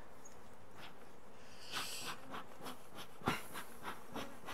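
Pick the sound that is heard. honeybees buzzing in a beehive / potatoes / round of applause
honeybees buzzing in a beehive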